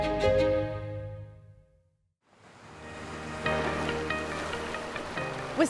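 Waves wash along the Lake Michigan shore in Wisconsin, a steady broad surf roar with wind buffeting the microphone, swelling after a brief lull.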